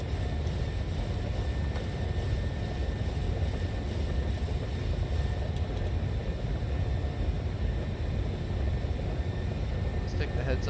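Boeing 737-700 jet engines roar steadily as the airliner accelerates after takeoff in Microsoft Flight Simulator, a constant broadband rumble throughout with no clear change in pitch.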